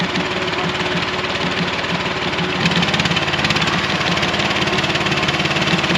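A Chinese-made mini skid steer with tight tracks runs nearby, its small engine holding a steady, loud, even idle with a fast knocking pulse throughout.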